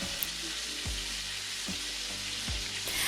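Burger patties sizzle loudly in a hot pan while a stainless steel spatula presses down on them, giving three dull thumps spaced about a second apart over a continuous frying hiss.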